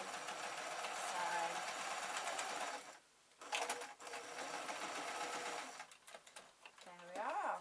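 A sewing machine stitches felt for a small elephant pin cushion, running in steady bursts of rapid mechanical chatter with a brief pause midway and a short stop near the end, with a voice speaking briefly over it.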